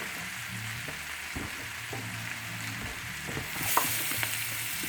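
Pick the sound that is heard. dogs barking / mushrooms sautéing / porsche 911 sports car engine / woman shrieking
mushrooms sautéing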